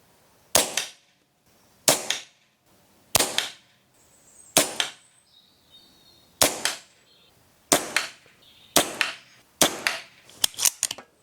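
An air rifle fires about a dozen sharp shots on a tethered air supply, spaced roughly a second apart, then faster toward the end, each crack close and loud with a short decay, no talking.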